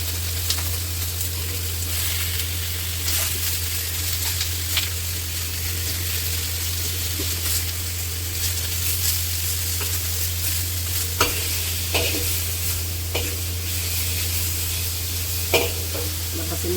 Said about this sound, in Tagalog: Ayan, igisa natin na yung karne.